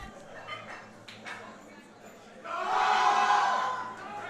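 Crowd at a high school powerlifting nationals cheering loudly for a lifter's squat, a swelling roar of shouts rising midway and holding for over a second before easing, with scattered voices and calls before it.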